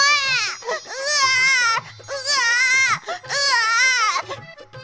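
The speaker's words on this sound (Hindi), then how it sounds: "तेज रोशनी के साथ बच्चे के रोने की आवाज सुनाई देने लगी" A baby cries in loud, repeated wailing bursts, three long sobbing cries separated by short breaths, close and clear.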